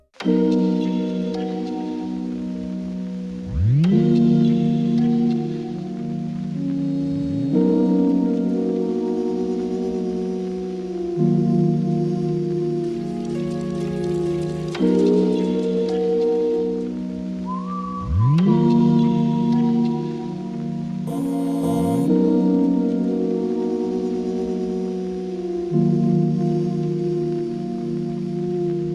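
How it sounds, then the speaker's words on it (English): A sustained, layered synth melody plays with slow chord changes and pitch-swooping accents, overlaid with Cymatics Origin vinyl crackle and soft noise, alone with no voices. "I also got cymatics origin to get some vinyl crackle"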